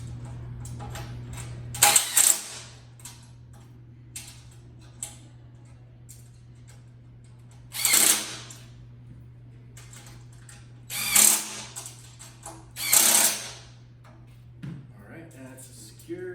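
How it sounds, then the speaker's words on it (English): Bolts being tightened on a chrome Stiletto one-man kart stand with a perforated steel base, heard as a few short, separate ratcheting bursts over a steady low hum with quiet gaps between them. "So once you have it lined up, you can tighten up these bolts."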